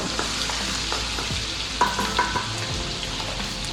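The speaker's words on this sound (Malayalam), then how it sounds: "അതിലോട്ട് 1/2 ടീസ്പൂൺ ഇഞ്ചി വെളുത്തുള്ളി പേസ്റ്റ് ഇട്ട് കൊടുക്കാം" Ginger garlic paste sizzles in hot oil in a pan for restaurant-style chilli chicken. A steady, close hiss continues throughout with a few light scrapes and clinks from stirring, and there is no talk.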